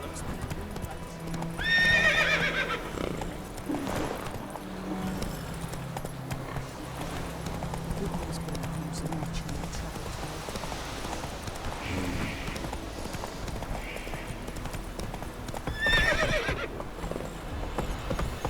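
Hooves of the horse Roach clip-clop steadily in The Witcher 3 video game, with two bursts of whinnying near the start and end over a continuous outdoor ambience.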